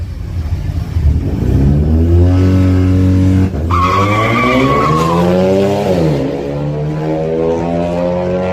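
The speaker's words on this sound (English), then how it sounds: "Why is every Volkswagen spin? Every Volkswagen." A Volkswagen car in a racing video game revs hard, then loses grip and spins out with a long, loud tire squeal over the rising and falling engine drone.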